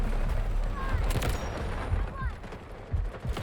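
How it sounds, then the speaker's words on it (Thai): Gunfire in the shooter game Delta Force rings out from behind the player: rapid, fairly loud bursts of shots repeating through the stretch over steady battlefield noise. "ข้างหลังยิง"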